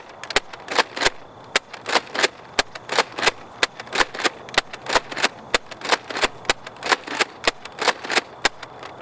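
A Nerf Vortex Pyragon blaster fires discs in a long rapid series of sharp, loud snapping shots, each followed by a brief whir, with no talking.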